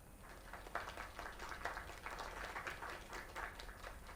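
Crowd applause for a singer in a South Park video game, faint but steady clapping from many hands, sustained for several seconds with no talking.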